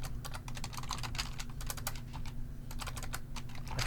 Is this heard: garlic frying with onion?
no